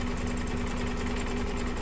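An embroidery sewing machine stitches tie-down stitches on folded fabric, giving a steady, even mechanical whir and rapid needle chatter, close and continuous with no talking.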